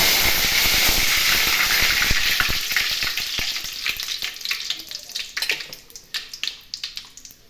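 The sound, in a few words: curry leaves frying in hot oil for tempering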